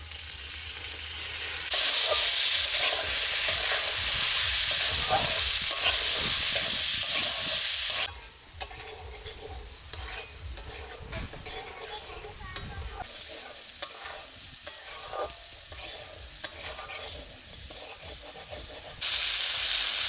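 Green peas frying in a kadai for koraishutir kochuri filling, with a loud steady sizzle and repeated scraping stirs that calm briefly in the middle before the full sizzle returns.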